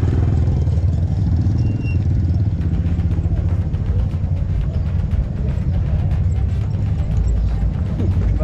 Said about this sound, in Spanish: aguas con la moto.